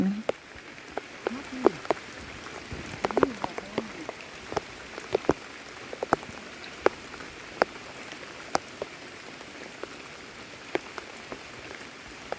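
Rain falls steadily in a forest, a soft constant patter broken by scattered sharper drops striking nearby surfaces, with occasional faint croaks in the background.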